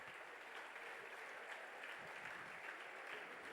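Congregation at a church celebration service applauding, a faint, steady wash of clapping from a crowd heard at a distance.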